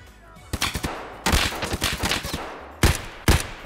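Gunfire in the video game Escape from Tarkov: several sharp bursts of rapid shots in quick succession, loud and close, with short gaps between volleys.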